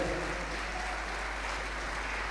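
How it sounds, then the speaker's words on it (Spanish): Audience at a tango festival applauding steadily, a dense wash of clapping that fills the whole stretch at moderate level with no voices on top. "Fuerte el aplauso para él."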